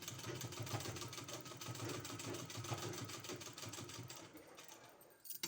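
A sewing machine stitches a neck design on a suit, running as a steady, fast, rhythmic whir for about five seconds before slowing and stopping near the end.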